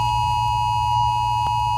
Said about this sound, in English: It's coming through your phone, whether you have it on silent or not, at 1:30 p.m. today, a test of that alert system.